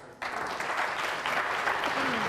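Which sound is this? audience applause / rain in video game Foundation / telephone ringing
audience applause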